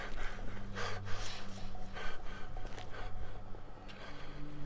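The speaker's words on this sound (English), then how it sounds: "heavy breathing" Heavy, ragged breathing from the horror game UnderDread, steady gasps and pants repeating close up over a low ambient drone, with no talking.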